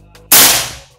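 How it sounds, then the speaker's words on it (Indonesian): A PCP Predator Monolith OD38 air rifle fires a single sharp, loud shot that cracks and fades over under a second, preceded by a faint mechanical click. "Nah itu tadi suara dari PCP Predator monolith"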